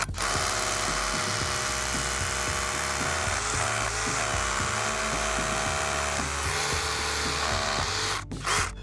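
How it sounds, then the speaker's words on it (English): A power drill runs continuously with a steady high whirring whine as it pre-drills a hole through a bracket, loud and close, with slight pitch shifts under load and a brief stop near the end. "Start pre-drilling our hole there."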